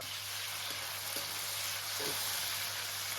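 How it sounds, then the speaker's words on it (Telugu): Tomato pieces frying with browned onions in a pan for Nellore-style fish curry, a steady close sizzle with a few faint stirring scrapes and no voices. "ఈ టమాటా కూడాను బాగా ఫ్రై అవ్వాలి"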